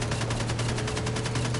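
Rapid video game gunfire, a dense continuous burst of shots with steady pulsing repetition, loud and close throughout the brief moment.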